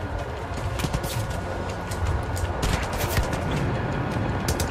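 Sustained heavy gunfire in Far Cry 5, dense overlapping machine gun bursts and shots rattling continuously, loud and close with no pauses.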